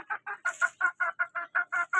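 Chickens clucking in a quick, steady series of about ten short calls, close by and fairly loud.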